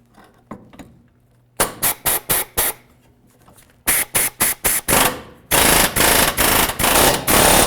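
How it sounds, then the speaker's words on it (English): Air hammer with a 1/2-inch drive impact socket separating the front steering knuckle of a 2012-2016 Subaru Impreza, loud and close: a run of four short bursts, then five, then longer sustained hammering. "Now the tool that we're going to want to have is an air hammer."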